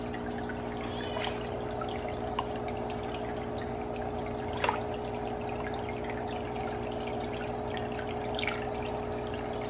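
Water flowing steadily through the filter of a 40-gallon fish tank, a constant soft trickling wash with a low steady hum underneath and a few faint clicks.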